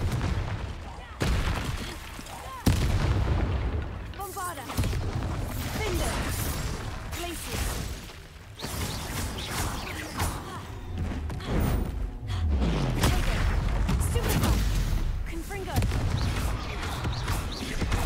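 Spell blasts from the Bombarda curse in Hogwarts Legacy, a run of heavy booming explosions and crashing thuds scattered across the stretch, loud and dense, with game clamor and a voice talking over parts of it.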